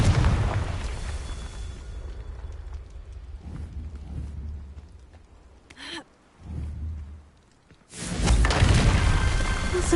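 Video game Confringo fire spell blasts: deep booming explosions with crackling debris, one long rumble at the start, then short thuds and a final loud burst, with a brief gasp-like effect between.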